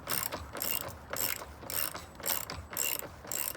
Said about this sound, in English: grinding sound as it makes its way through the stucco and the metal mesh